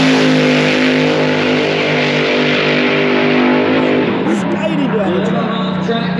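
A pink altered dragster built on a Ford Mustang launches on a drag strip, its engine roaring loudly and steadily with rising harmonics before the tone breaks up near the end; a voice talks over the engine noise.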